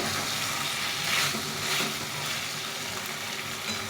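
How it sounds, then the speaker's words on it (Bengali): Fish curry with fresh green and ripe red chillies sautés in a pan, giving a steady close sizzle and frying hiss with faint stirring throughout. "তো এইভাবে কষিয়ে নিচ্ছি"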